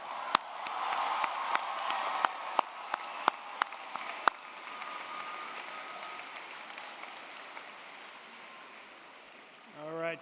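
A large commencement audience applauds the new graduates, a dense sustained clapping with many sharp individual claps early on, slowly thinning and fading toward the end.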